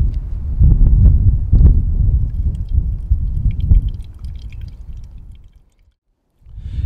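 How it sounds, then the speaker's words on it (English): Water pours from a 64-ounce canteen into a 40-ounce canteen, a close, burbling, gurgling stream that surges in uneven glugs, tapers off, falls silent, then briefly resumes. "Now that I got this water transferred from my 64-ounce canteen into my 40-ounce"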